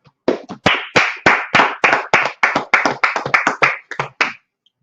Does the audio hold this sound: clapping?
yes